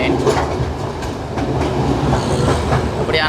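A passenger train runs on the rails at night between Jaffna and Mount Lavinia, a steady close rumble with rhythmic clickety-clack from the wheels and occasional faint squeals, nothing else on top.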